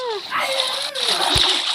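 Splash into the sea in the Roblox Brookhaven RP game, a loud watery splatter and slosh heard up close while a young voice talks over it.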